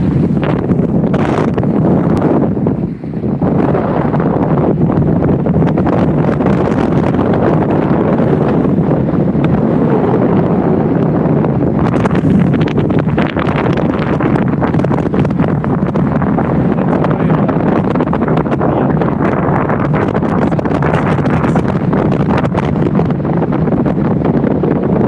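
Strong wind batters the microphone on a sea tour boat off Oban, Scotland, a loud continuous roar with gusts that lasts the whole stretch, faint voices now and then underneath.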